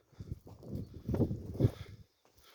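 Horses' hooves clop on the ground in an uneven walking rhythm, fairly close, with a few soft thuds and brief pauses; one is a Percheron-hybrid mare, during spring field work.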